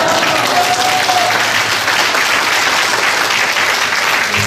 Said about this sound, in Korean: 강사 목사님 나오실 때 할렐루야 박수로 환영해 주시기